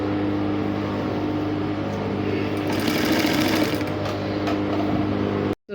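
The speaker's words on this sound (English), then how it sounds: "I'll sew the 3 lines one after the other." A sewing machine runs a steady, continuous stitching drone as boning lines are sewn onto a structured sleeve with crinoline mesh, holding an even hum and cutting off abruptly at the end.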